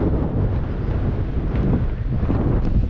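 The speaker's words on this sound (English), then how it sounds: "The wind is awesome." Wind blows steadily on a sailboat anchored off Guadeloupe in the Caribbean, producing a loud, continuous rushing roar and microphone buffeting with no pauses.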